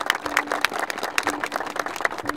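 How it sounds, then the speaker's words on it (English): A group claps together after a hard workout, fairly close and lively, with irregular hand claps layered over a low background hum. "Everybody clapping, clapping."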